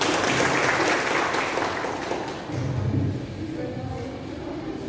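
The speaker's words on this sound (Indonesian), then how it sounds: "Tepuk tangan untuk kita semua." Audience applause at a university entrepreneurship seminar, a dense burst of clapping that fades gradually toward the end, with a voice speaking faintly underneath.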